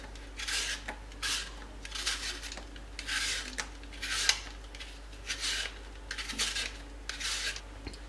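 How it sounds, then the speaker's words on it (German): Apples being peeled for an Italian apple cake: a steady series of short, close rasping scrapes, about two per second, each a soft rub of the knife blade against the apple skin, with no talking. "Wir schälen die Äpfel."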